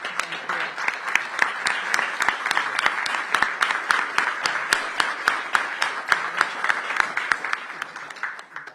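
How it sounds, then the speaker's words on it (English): Applause at a DC mayoral budget presentation: a steady, dense crowd of hands clapping for several seconds, with a few sharper individual claps standing out and no voices. "You and your senior leadership, as well as your staff members, truly deserve a round of applause."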